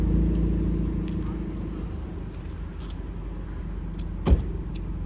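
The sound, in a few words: Dzire car with loud audio system, exterior running shot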